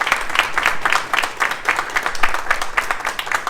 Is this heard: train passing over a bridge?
no